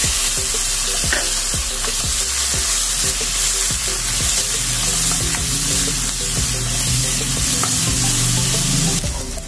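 Tomatoes sizzle in a hot frying pan with a steady, close crackle, punctuated by light clicks and stirring scrapes and no talking.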